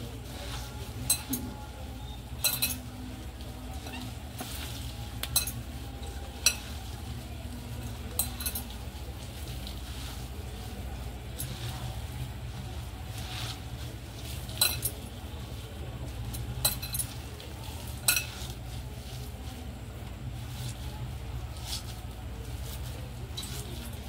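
Puffed rice (kurmure) being mixed in a bowl with a spoon or by hand, giving quiet scattered clinks of cutlery and a soft rustle against a steady low background hum.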